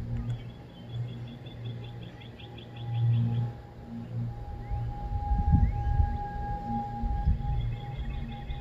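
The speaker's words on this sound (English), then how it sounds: "Two thousand one tornado siren" A 2001 tornado siren in Valley, Alabama, sounding a test, holds a steady wailing tone in the distance and grows louder toward the end, over low rumbling noise and faint bird chirps.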